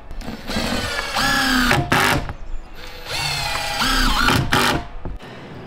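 Power drill driving a deck screw into pressure-treated lumber, two whining bursts that rise in pitch and strain as the screw bites, loud and close.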